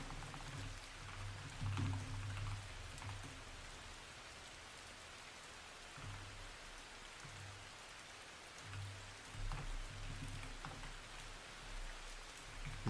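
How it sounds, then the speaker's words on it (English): Light drizzle falls in a steady, soft patter of raindrops on surfaces, continuous and even for the whole stretch, with a low background hum and no voices. "Rain, light."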